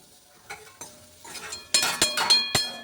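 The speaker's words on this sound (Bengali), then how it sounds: "গাজরটা একটু নেড়ে চেড়ে নেব" Grated carrot frying in ghee is stirred with a utensil, giving soft sizzling under a few sharp scraping clinks against the pan that grow louder toward the end.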